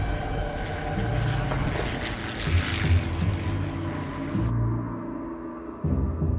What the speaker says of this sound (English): As the American bombers dived into action, they were pounced on by Japanese Zeros.